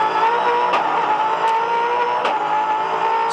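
Team Jayco Ford V8 Supercar at race pace on the Adelaide 500 street circuit, heard onboard: a loud, steady high-revving V8 wail with brief sharp blips at gear changes, continuous and close.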